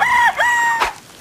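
A rooster at a chicken coop crows a close, loud, drawn-out call in two bursts, followed by a short thump and quiet.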